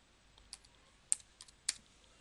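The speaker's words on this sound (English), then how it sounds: "I'll type in a name, and I will type a fake email address" Typing on a computer keyboard: a few sparse, faint key clicks in a quiet room, with irregular taps and two slightly sharper strikes, no talking.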